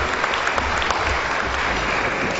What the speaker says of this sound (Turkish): Alkışlarınızla bu yönetliğin alkışı hak ediyor